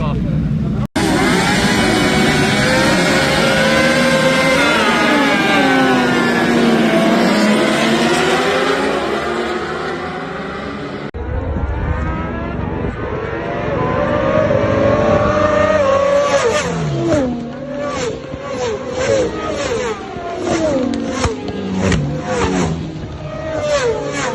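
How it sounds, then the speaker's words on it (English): A Ducati racing motorcycle screams past at speed during the North West 200 road race, loud rising and falling engine whine with gear changes, under excited commentary. "That Ducati is fast."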